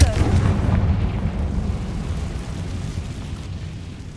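A Confringo blasting spell explodes in Hogwarts Legacy, a loud booming burst at the start that rumbles and slowly fades into a low roar. A voice is heard faintly underneath.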